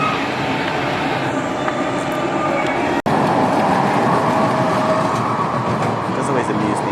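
A long amusement park ride train rolls past at Parc Astérix, a loud continuous rumbling and rattling roar that stays close for the whole stretch, with a brief sharp cut midway.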